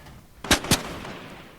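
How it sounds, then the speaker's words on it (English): Two sharp gunshots from another player in the Fortnite video game crack out close together, loud and near, then fade into quiet background. "Someone's shooting at me."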